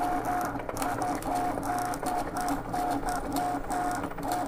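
A dirty vinyl cutting machine cuts holographic adhesive vinyl with a steady mechanical whir and a regular pulsing tone that repeats about every half second. The sound is close and continuous with no talk.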